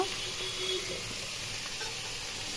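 Chili chicken fries in a pan with a steady, close, fairly loud sizzle and occasional stirring scrapes, continuous throughout with no talking.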